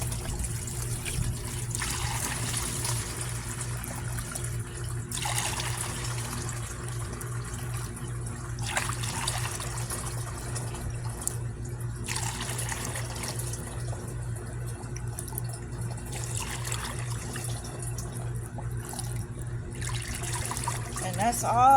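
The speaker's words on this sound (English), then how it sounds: "Scoop some water out, put it right on in there." Rainwater being scooped from a collection container and poured into another container, several splashy pours and trickles repeating over a steady low hum, with a person speaking in between.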